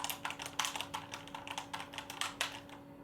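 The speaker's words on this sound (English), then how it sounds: "I got this keyboard here and I finally took it out the box" A newly unboxed computer keyboard being typed on at a steady, quick pace, with crisp clacking keystrokes close by over a constant electrical hum, no voices.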